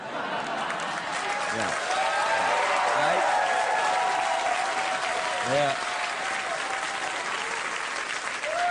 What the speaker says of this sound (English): the audience applauded self-righteously because none of them have ever done it